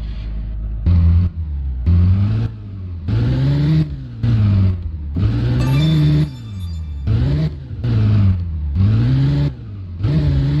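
An off-road truck engine revs in the mobile driving game Offroad Simulator 2021: Mud & Trucks, loud and close, climbing and dropping in repeated surges with short pauses between bursts, and no talk.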